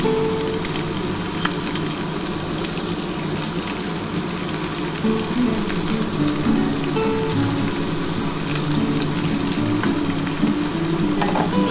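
Chopped onion frying in a pan, a loud, steady crackling sizzle close by with intermittent stirring, no talking.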